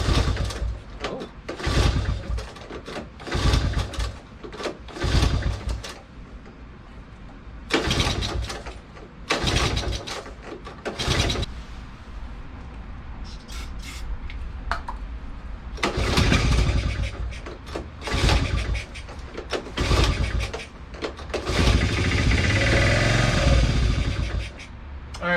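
A Honda ATC70 engine with gas and choke on is pull-started repeatedly in close range, each yank giving a short burst of cranking, with a longer sputtering run attempt toward the end.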